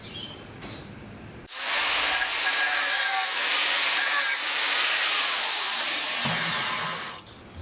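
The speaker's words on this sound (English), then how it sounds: "I'll do a little cut just through about 1/3 of the way through the steel" A power tool scores partway through square steel tubing in a loud, harsh grinding cut of roughly six seconds, nearby, starting abruptly and briefly easing in the middle before stopping.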